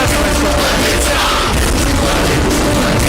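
A large crowd at a political rally for Deputy Chief Minister Eknath Shinde in Ratnagiri claps and cheers loudly and continuously, a dense wash of shouting and applause with occasional booming pops.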